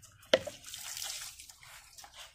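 Children bathing a pet dog outdoors in Mangalore: a sharp splash as water is poured over the dog, then a stretch of softer trickling and dripping water, with no voices.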